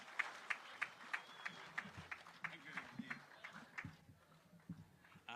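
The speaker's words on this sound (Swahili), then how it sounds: "Kwa makofi." An audience claps in welcome for Kenyan President William Ruto at a gas plant launch in Dongo Kundu, Mombasa, heard as faint, scattered, uneven hand claps from a distance.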